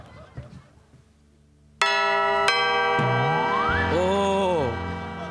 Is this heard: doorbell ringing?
yes